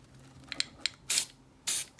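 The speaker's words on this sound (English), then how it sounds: "So now I'm just going to spray this." An aerosol spray can is sprayed onto a vinyl stencil in two loud, close hissing bursts, each lasting about a fifth of a second, after a few small clicks and taps from handling the can.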